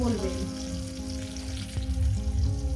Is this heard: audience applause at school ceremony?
no